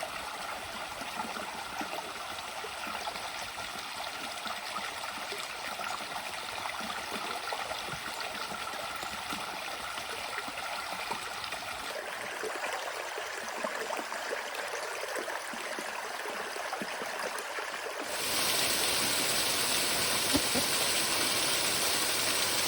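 Mina Sauk Falls sends a steady broadband rush of falling water into a rocky stream, close and continuous, growing noticeably louder and brighter in the final few seconds.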